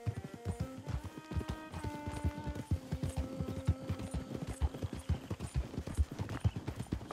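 Horse hooves clopping steadily in Red Dead Redemption 2 while riding toward a ranch in Scarlet Meadows, a quick regular gait under a sustained musical score, with soft voices faintly in the mix.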